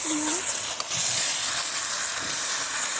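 Water poured into a hot pan of Bengali chicken curry, a loud continuous steamy hiss that fills the whole moment, close up, with no clear voices.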